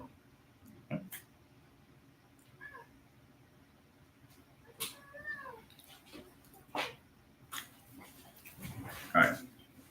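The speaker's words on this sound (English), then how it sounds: "I have my cat here." A pet cat meows several times indoors, short plaintive calls spread across the span, some quite close, with a faint background hum and scattered thumps.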